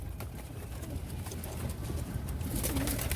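Pigeons, barred and Girebaaz types, coo in a loft, soft and continuous under a steady bed of ambient noise with faint scattered fluttering.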